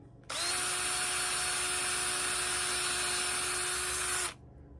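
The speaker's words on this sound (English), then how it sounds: "I'm going to drill me a pilot hole in the end of this stick" A power drill bores a pilot hole into the end of a wooden walking stick, a single loud, steady whine that starts abruptly, holds for about four seconds, then cuts off.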